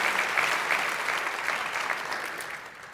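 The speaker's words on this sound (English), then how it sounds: "Please, please, please give them a huge round of applause." A theatre audience at a live podcast taping at The Theatre at Ace Hotel breaks into sustained applause, a dense, steady wash of many clapping hands close and loud throughout, with no talk over it.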